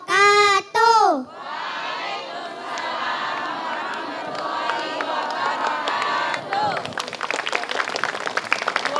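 An audience at a children's preaching competition grand opening on stage cheers and applauds, loud sustained clapping and shouting after a presenter's brief amplified voice, with the crowd noise swelling toward the end.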